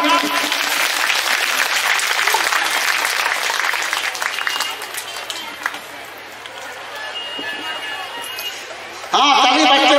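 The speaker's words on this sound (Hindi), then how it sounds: "हाँ ताली बजते रहो" Audience clapping at a felicitation ceremony in Bramanmara Parish church, dense sustained applause that gradually thins and softens before an abrupt shift to other sound near the end.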